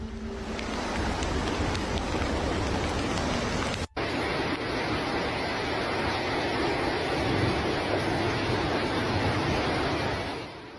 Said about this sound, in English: The bad weather causing flooding in the Vosges, where water rose to 2 meters in the Domper area.